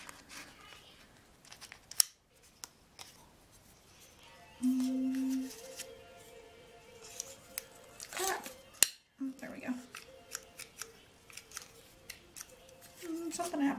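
Scissors snipping paper planner pieces at close range, with short crisp cuts and some paper rustling scattered across a quiet room, plus a few brief louder bursts.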